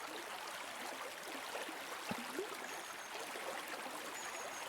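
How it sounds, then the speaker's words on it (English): Soft, even rush of flowing stream water, a constant gentle hiss with faint trickling detail, heard alone. "The sound of the river, the sound of the water"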